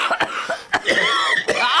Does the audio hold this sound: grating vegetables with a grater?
no